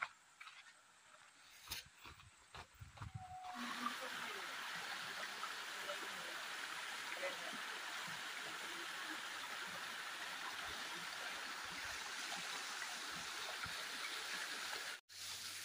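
After some brief knocking, water falling from a hillside near a cave rushes down steadily, a loud continuous roar like a cascade pouring nearby.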